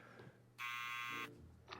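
A harsh electronic buzzer from the Back to the Future video game sounds once for about two-thirds of a second, loud and steady, with faint background noise before and after.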